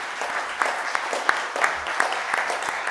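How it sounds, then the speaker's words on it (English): An audience at a live awards ceremony claps, a moderate spread of individual hand claps with a few sharper slaps standing out, with no talking over it. "Clap again once for him."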